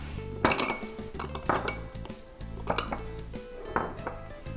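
Small bowls being set out on a kitchen counter while making rainbow cupcakes, with several clinks and knocks of dishes and utensils spaced across the moment, close and moderately loud with no talk.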